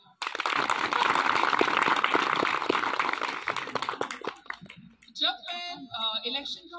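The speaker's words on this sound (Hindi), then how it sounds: "तालियां" A college audience claps steadily and densely at a student union election results ceremony for several seconds, then the applause fades and a voice begins speaking.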